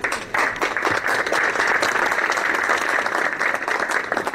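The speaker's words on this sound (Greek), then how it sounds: "Έλα και το χειροκρότημα" A crowd at a 2017 pigeon club festival in Aiginio claps continuously. The dense, even applause sounds close and fills the whole stretch.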